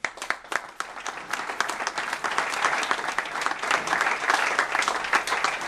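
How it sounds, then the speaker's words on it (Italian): Sustained applause from a crowd at a football club's season presentation, honouring the youth team coach of Termoli Calcio 1920; dense, steady clapping fills the room with no talk. "vorrei fare veramente un grosso applauso all'allenatore della Juniors"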